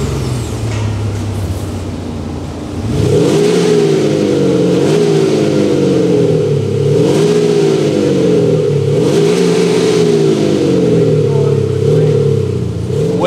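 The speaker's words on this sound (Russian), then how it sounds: "это Солярис, который звучит как какой-нибудь спорткар" A Hyundai Solaris with an aftermarket sports exhaust revs hard in repeated rising and falling pulls, its deep exhaust note loud and close after a quieter idle.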